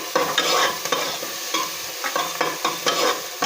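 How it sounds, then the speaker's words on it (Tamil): Onions and other ingredients being sautéed and stirred in a pan for tomato soup, a continuous bright sizzle with rhythmic scraping strokes of a spoon, close and fairly loud throughout. "இது எல்லாத்தையும் சேர்த்து நல்லா வதக்கி விடுங்க."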